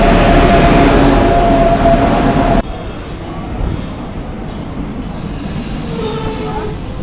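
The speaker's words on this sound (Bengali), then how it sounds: "আমাদের ট্রেন ঢুকছে 3 নম্বর প্ল্যাটফর্মে" A Sealdah–Lalgola passenger train pulls into a station platform: loud rumbling and rolling clatter, then a sudden drop to a quieter steady grind with faint squeals as the carriages slow alongside.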